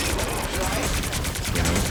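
Star-Lord's guns fire in a dense, unbroken stream of rapid shots during a Marvel Rivals match, loud and close throughout, with a voice talking over the gunfire.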